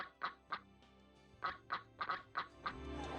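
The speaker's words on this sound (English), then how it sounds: "There's also a lake with a bunch of ducks." Mallard ducks on a lake in OpenRCT2 quack in sharp, separate calls, about ten spread unevenly across the stretch, close and clear over a faint steady backing tone.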